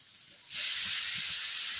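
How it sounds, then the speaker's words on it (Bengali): Mustard paste mixed with water is poured into a pan of fried vegetables: a faint background is cut off by a sudden loud hiss of hot oil and steam that holds steady to the end. "এরপর আমি সর্ষে বাটা জল দিয়ে দিচ্ছি"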